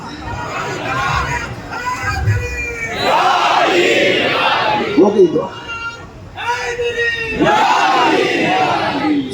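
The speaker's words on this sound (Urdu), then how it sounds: "سنیوں کے نعرے تو مردوں کی طرح لگنا چاہیے" A large crowd at a Sunni religious gathering for an Urs shouts slogans in loud, surging bursts, with a preacher's voice speaking between and over the chants.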